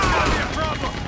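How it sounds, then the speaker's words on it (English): A Gatling gun in Red Dead Redemption 2 fires a rapid, loud burst of shots under an excited voice, the rattle dense and close. "Oh! Gatling gun!"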